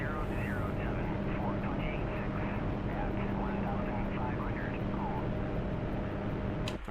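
A helicopter's engine and rotor in a flight simulator game give a steady droning whine with a constant low hum throughout, while a person talks over it, ending with a brief click.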